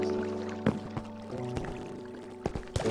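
Water flows and splashes in a Minecraft-style block game, a soft liquid pouring sound with a few sharp clicks and knocks over it, quiet and without speech.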